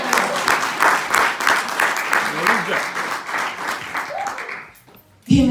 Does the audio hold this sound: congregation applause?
yes